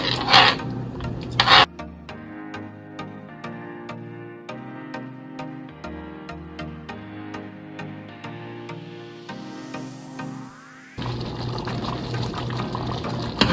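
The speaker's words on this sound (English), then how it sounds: "you're gonna stir this around and just let it thicken up" Beef stroganoff sauce stirred in a pan as it thickens, heard as repeated close scraping and rubbing strokes with a wet, bubbling texture, and no voices.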